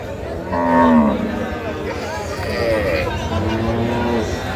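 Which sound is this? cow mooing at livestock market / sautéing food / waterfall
cow mooing at livestock market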